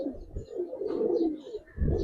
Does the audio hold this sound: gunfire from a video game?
no